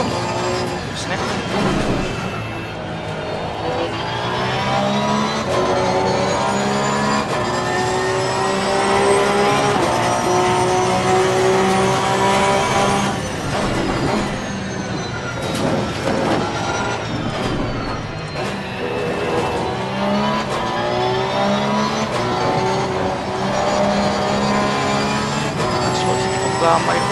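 A GT3 race car engine in a racing simulator at Misano, droning steadily with rising and falling revs through gear changes, loud and continuous throughout, with someone talking over it.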